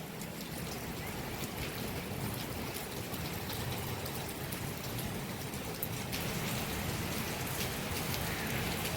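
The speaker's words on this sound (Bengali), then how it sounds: "মারাত্মক বৃষ্টি হচ্ছে, দূরগুলো দেখা যাচ্ছে পুরো সাদা হয়ে গেছে।" Heavy rain pours down outdoors in a dense, unbroken roar of drops drumming on surfaces, steady throughout at moderate level with no voices.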